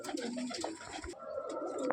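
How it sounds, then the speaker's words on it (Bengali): A Taki pigeon cooing close by, soft low throaty coos repeating over a couple of seconds. "টাকি পায়রা আছে এটা।"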